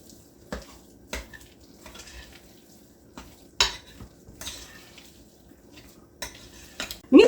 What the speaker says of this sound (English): put a little bit more ketchup in there. Give it a nice, good stirring.